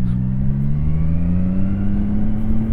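A 2025 CFMOTO 675NK motorcycle accelerates hard, its engine note climbing steadily in a loud, close, continuous rising drone with no talk over it.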